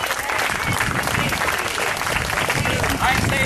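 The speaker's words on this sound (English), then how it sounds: "so let's give them a big round of applause." Guests at a house party break into applause after a toast, clapping and cheering mixed with crowd chatter and voices throughout.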